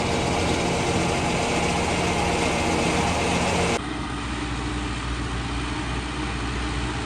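A large 4x4 tractor engine running with a loud, steady low rumble, close by, shifting abruptly to a slightly different, quieter drone partway through.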